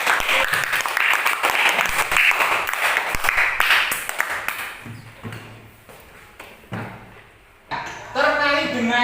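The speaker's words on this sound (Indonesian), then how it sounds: "Tepuk tangan." Applause from a classroom of students, a dense burst of clapping that runs loud for several seconds and then thins out into scattered claps, with speech near the end.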